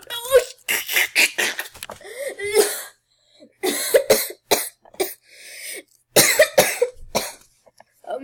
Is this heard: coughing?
yes